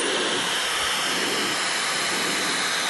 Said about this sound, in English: This is just a little hairdryer